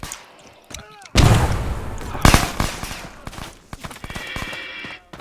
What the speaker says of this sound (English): where did those shots come from?